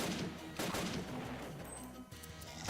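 Gunfire from a C96 pistol in the video game Final Stand 2, dense overlapping shots and blasts with other game effects, loud and continuous throughout with no talking.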